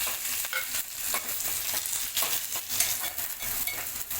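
Onion and curry leaves fry in oil in a kadhai, a quiet, even sizzle under repeated light stirring scrapes.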